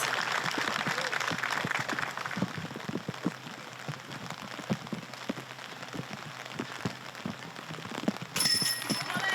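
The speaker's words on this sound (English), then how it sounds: "That's so much rain." Heavy rain pours down on an outdoor disc golf course at the European Open, a dense, steady hiss and patter of drops that continues without a break.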